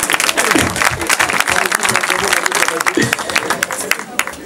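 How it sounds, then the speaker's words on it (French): Audience at a single launch event for Ivorian artists breaking into dense, close applause with scattered sharp claps, filling the whole stretch, with a voice mixed in. "En tout cas, applaudissez-vous."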